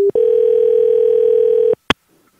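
A telephone call-back sounds a steady electronic tone for about one and a half seconds, loud and close, then cuts off, followed by a short click and near silence.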